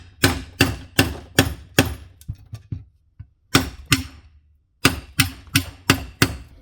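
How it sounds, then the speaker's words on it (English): A hammer strikes the back of a Wera 900 chisel screwdriver driven into soft pine, landing sharp, close blows in quick bursts of two to four separated by short pauses, with no talking. "you can chuck it in, grab a hammer, impact the back."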